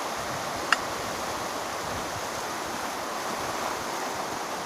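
Steady rushing water of the Chi River in Roi Et, Thailand, flows continuously, a broad even wash of sound with one brief sharp click early on.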